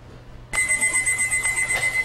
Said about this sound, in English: 13 years ago, Jerry Lynn dropped an alarm clock behind his living room wall.